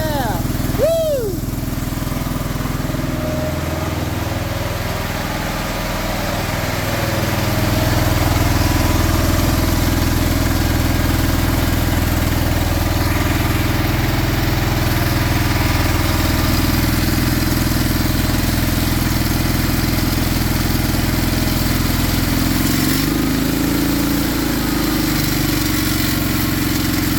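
A Honda lawn tractor engine idles close by with a steady, throaty putter that grows a bit louder and rougher after the first few seconds and then holds an even rumble throughout.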